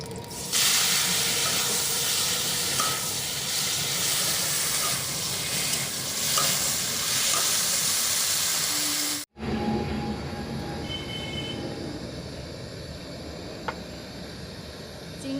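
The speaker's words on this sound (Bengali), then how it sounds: "এরপর আমি এই প্রথমে চিংড়ি মাছগুলো ভেজে নেবো" Prawns fry in hot mustard oil in a wok, giving a loud, steady, dense sizzle with no talking; it breaks off abruptly for a moment partway through, then resumes at a lower, quieter level.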